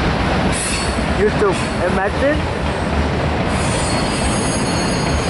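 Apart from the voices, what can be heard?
Norfolk Southern freight train with mid-train DPU passing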